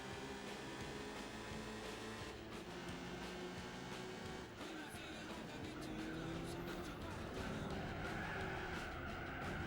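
Racing cars in Gran Turismo 4 drone with steady engine whine, and tires squeal and skid repeatedly as they corner, a dense continuous mix that runs on for several seconds.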